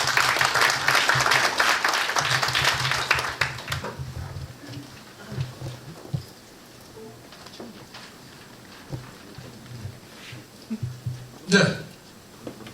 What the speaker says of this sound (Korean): 저희 김광호 원장님 뜨거운 박수로 모시겠습니다